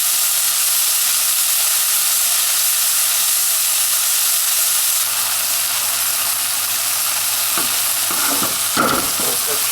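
Madras beef curry meat browns in a hot pan with a steady, loud sizzle throughout, and a few stirring clatters come near the end.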